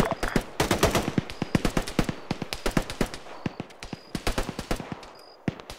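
Sustained automatic gunfire in a military shooter game, dense rapid bursts of loud cracks running almost nonstop with brief gaps, mixed with scattered distant shots.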